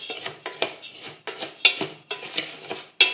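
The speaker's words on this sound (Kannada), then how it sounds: "ಅಕ್ಕಿ ಸ್ವಲ್ಪ ಬಿಸಿ ಆಗೋ ತನಕ ಸ್ವಲ್ಪ ಒಂದು 2 ನಿಮಿಷ ಹುರ್ಕೊಂಡ್ರೆ ಸಾಕು" Rice dry-roasting in a pan while being stirred for Akki Usli, with repeated scraping and clinking strokes of a utensil against the pan, and no talk.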